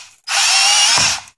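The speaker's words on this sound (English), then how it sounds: "this is my drill" A power drill spinning a wire wheel whirs at a high, steady pitch for about a second, starting and stopping abruptly, close and loud.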